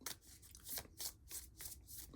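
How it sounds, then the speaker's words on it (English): Hands shuffling a deck of game cards from a zombie board game: a run of quick riffling, rustling bursts in a steady rhythm, close up and fairly quiet, with no talk. "I think this is a good enough shuffle"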